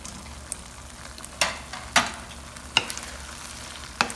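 Prepared chicken stirred into a thickened slurry sauce over low flame for restaurant-style chili chicken, soft continuous sizzle with several sharp scraping spoon strokes at irregular intervals.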